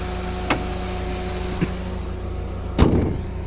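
A 1997 Toyota Corona Exsior with a fuel-injected four-cylinder engine idles steadily nearby, then is switched off with a clunk and a short rattle as the running hum fades.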